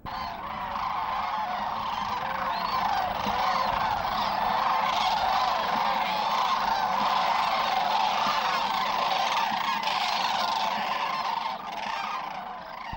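A dense chorus of loud, rolling honking calls from many Florida sandhill cranes, continuous and close, with no pauses for the full stretch.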